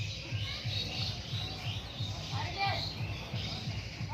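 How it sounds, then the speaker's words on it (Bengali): A voice talks over the busy, high twittering of many baya weaver birds chirping at their nests nearby in a continuous chorus. "এই যে কিচিরমিচির শব্দে"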